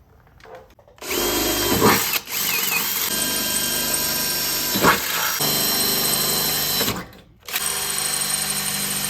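Power drill boring four mounting holes for an air compressor during a Firestone Ride Rite air bag install on a 2007-2021 Toyota Tundra, loud, steady whine in long continuous bursts with a couple of brief pauses, no talking.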